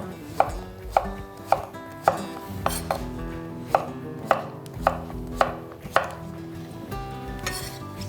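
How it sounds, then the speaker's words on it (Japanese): A knife dices food into cubes on a cutting board, a regular series of crisp close chops about every half second over a soft background hum. "もうこのように3つに切り分け、ダイス型にカットしていきましょう。"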